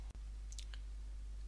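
A single quiet computer mouse click sounds once early on, short and sharp against a low steady hum.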